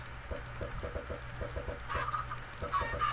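Minecraft chickens clucking in a video game, repeated short clucks at an irregular rhythm, fairly clear with some soft scraping and other game noises underneath.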